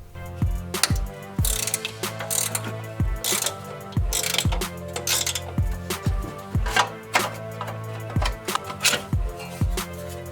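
A ratchet wrench works loose the bolts of a turbo heat shield on a Subaru WRX STI, giving repeated sharp clicking bursts in an irregular rhythm, close and loud, with no talking.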